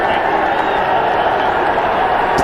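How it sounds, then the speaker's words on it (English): Cricket stadium crowd during an India vs England Test match, a dense, steady roar of many voices filling the whole stretch without breaks, loud and broad, with no distinct individual shouts standing out. "the crowd is roaring"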